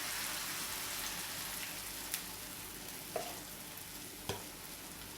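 Jamaican saltfish fritters fry in hot oil with a loud, constant close sizzle, broken by a few sharp clicks of a utensil.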